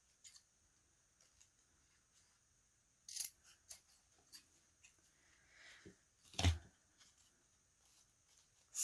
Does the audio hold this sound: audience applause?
no